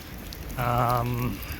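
Very light rain falls at dusk in a village along the Via de la Plata in Spain, a soft, steady hiss throughout with a brief tonal hum rising in the middle.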